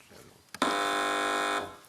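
A quiz show buzzer on the TV panel game Have I Got News for You sounds once, a loud, sustained electronic honk lasting about a second after a brief click.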